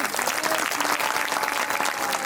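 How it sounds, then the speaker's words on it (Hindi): Applause from an audience at a Hindu religious discourse, a Bhagwat Katha, with dense, steady clapping filling the whole short stretch at moderate loudness and no voices. "ताली बजाओ"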